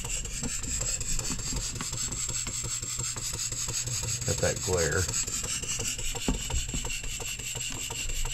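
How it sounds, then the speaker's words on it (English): A Stuart beam engine runs on compressed air at about 4 psi, its piston loose on the rod. It gives a steady, rapid, close mechanical beat with rubbing knocks, and a brief spoken remark is heard. "We do have a little bit of noise. I think our piston is loose on our rod."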